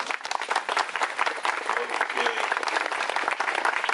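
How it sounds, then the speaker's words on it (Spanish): Audience applause at a groundbreaking ceremony for a school construction: dense, sustained clapping from a crowd, loud and close, with voices mixed underneath throughout the few seconds. "yo le pido un fuerte aplauso"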